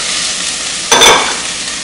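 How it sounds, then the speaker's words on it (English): Potatoes, celery, carrot and onion for a beef pot pie going into melted butter in a pan, giving a sudden burst of close sizzle partway through over a steady background hiss. "Let's go ahead and saute our vegetables"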